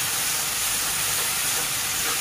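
Onions and spices frying in a hot pan, a dense steady sizzle and hiss that holds evenly throughout, close up with no voices.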